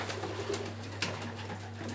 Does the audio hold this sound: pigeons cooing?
yes